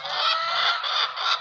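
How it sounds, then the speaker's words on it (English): A dense flock of laying hens on a large poultry farm in Takoradi, Ghana, about 10,000 birds, raising a loud, continuous chorus of overlapping squawks and clucks with no talk. "this is how your poultry will look like. This is our birds."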